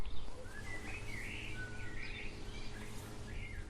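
Several birds chirp and warble outdoors, clear and mid-distance, with steady low rumbling background noise beneath.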